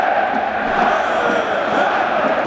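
A dense, steady roar from a crowd of football fans outside the stadium at the VfB Stuttgart versus KSC derby, loud and continuous, heard from nearby.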